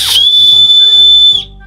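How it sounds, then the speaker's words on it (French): A single loud, piercing blast from a survival whistle, shrill and sustained for over a second, then stopping sharply. "On va siffler."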